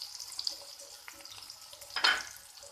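Dried red chillies dropped into hot oil with mustard seeds crackle and sizzle in a pan, a soft frying hiss with scattered pops and a brief louder spitting burst near the end.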